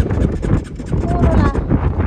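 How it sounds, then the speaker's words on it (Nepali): Strong wind blows outdoors on a trip back from a border area, roaring and buffeting the microphone as a loud, continuous rush throughout. "एकदम हावा चलिरहेछ"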